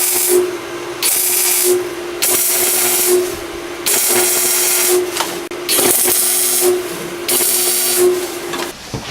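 Sheet metal floor pieces being tack welded onto a car during a floor rebuild, a series of loud hissing welding bursts of about a second each, separated by short pauses, with a steady hum running underneath.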